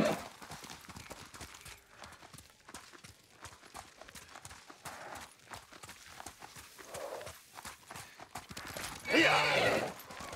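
Horse hooves clip-clop steadily through Ghost of Tsushima, a rhythmic run of close, fairly loud hoofbeats, ending in a louder burst near the end.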